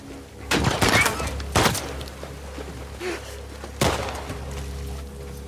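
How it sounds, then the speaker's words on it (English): Gunfire in The Last of Us Part 2: a few loud, sharp shots in separate bursts with a long gap between them, over a steady low game ambience. "Where am I getting shot from?"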